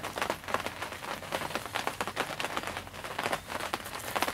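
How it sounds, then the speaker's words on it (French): Rain beginning to fall on a greenhouse where tomato seedlings are being transplanted, a dense, soft patter and crackle of drops on the covering, steady and close with no voices. "Ce que vous entendez, c'est la pluie qui est en train de commencer à tomber."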